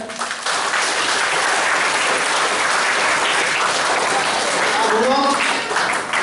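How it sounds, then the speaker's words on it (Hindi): A crowd at a children's cultural and values camp in Bikaner claps together loudly and continuously for several seconds, the applause close and steady, with a voice briefly rising over it near the end. "तो ताली बजाओ गुरुजी कहता है।"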